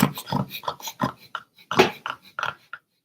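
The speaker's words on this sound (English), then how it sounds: "what the fuck's wrong with this dog? She's psyching the fuck out." A sleeping dog growls and whimpers while dreaming, a series of short, close, muffled vocal bursts with brief gaps between them.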